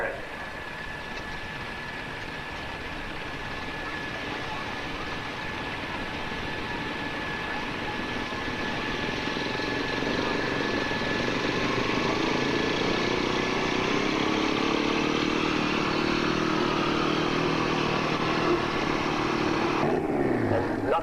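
At a 1987 tractor pull in Lucknow, Ontario, a pulling tractor with a 350 Chevrolet engine roars steadily and grows louder over about twenty seconds, heard from a moderate distance at an outdoor event.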